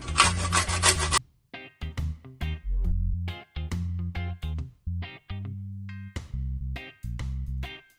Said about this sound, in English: I'm going to also grate some ginger on my oxtail